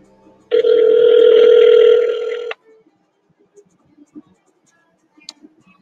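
A call to a telephone number reaching a recorded line, with a steady two-second intercept tone sounding loudly at the start, then near silence with a few faint clicks.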